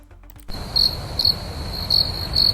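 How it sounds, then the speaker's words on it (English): Crickets chirp in a short rhythmic series of bright, evenly spaced bursts over a steady hiss, following a brief quiet start. "Dude, those are crickets."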